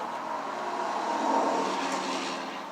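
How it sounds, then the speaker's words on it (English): Steady rumble of road traffic with semi trucks and tractors nearby in Illinois, a continuous engine drone with a heavy vehicle swelling slightly as it passes. "I'm going to apologize right now for all the traffic noise"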